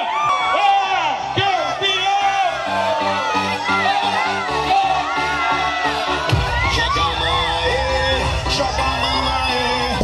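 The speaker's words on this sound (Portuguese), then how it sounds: "Que flamenguista grita." Flamengo football supporters at a fans' festival in Carlos Chagas, Minas Gerais, shouting, whooping and cheering loudly as a dense crowd, with drum-like thumps and bangs running under the continuous roar.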